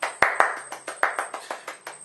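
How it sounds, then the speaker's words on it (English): A slow, light golf clap of about ten close hand claps in an even rhythm, sharp and crisp. "He actually gets a golf clap."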